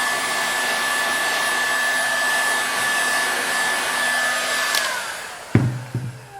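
A heat gun warming a shell section blows with a loud, steady whirring hiss and a thin whine, then cuts off near the end, leaving a few close knocks and clatters.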